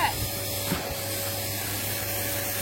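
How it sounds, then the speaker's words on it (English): A vacuum cleaner fitted with a brush attachment works mud out of a horse's coat, giving a steady, close, unbroken whooshing hum with a faint scrubbing texture and no talking. "So we're going to go and get it out with a vacuum"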